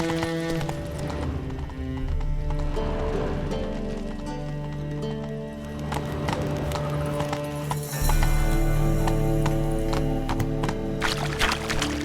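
Roach, the horse in The Witcher 3 on Switch, gallops with a steady, close clip-clop of hooves. The hoofbeats run under layered game music and ambience.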